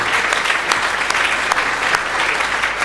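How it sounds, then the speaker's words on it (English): An awards ceremony audience gives the nominees a round of applause, a dense, loud, continuous wash of clapping from many hands with a few sharper individual claps standing out. "A round of applause for all the nominees, please."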